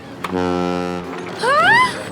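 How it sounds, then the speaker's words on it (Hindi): Cartoon boat horn blaring in a long steady harmonic toot of about a second, followed by a wavering rising-and-falling whistle-like tone. "हॉर्न, ये अपनी बोट का हॉर्न है"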